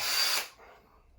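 Cordless power drill driving screws into flat-pack bedroom furniture, a short close whirring burst of about half a second that cuts off and fades into quiet room tone.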